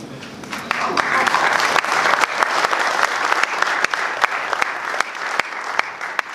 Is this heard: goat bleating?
no